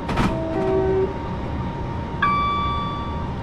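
A train running in Train Simulator on the Portsmouth Direct Line, with a loud close rumble, a brief tonal whine and a sustained horn-like chord near the end.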